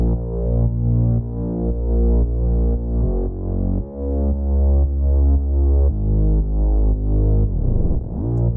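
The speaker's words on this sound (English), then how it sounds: "Mixing that with a really cool Reese, which sounds like this." A distorted Reese bass built in the Serum synth throbs loud and low in an electronic track, with sustained detuned notes that change pitch every second or so and end in a swooping pitch bend.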